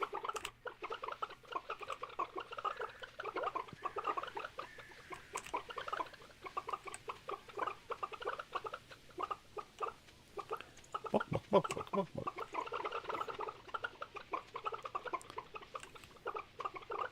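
Dense, busy chatter of many chickens in Stardew Valley, rapid overlapping clucks and pecking-like ticks running continuously for the whole stretch, with some game music or sound effects beneath.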